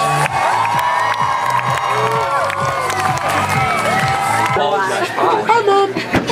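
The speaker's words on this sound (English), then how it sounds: "you're going to accept what I know will be a huge Tyler Hill round of applause" A summer camp audience at a hypnosis show erupts in loud cheering, whoops and children's shouts mixed with clapping, a dense, boisterous crowd roar that holds steady before breaking into scattered excited yells.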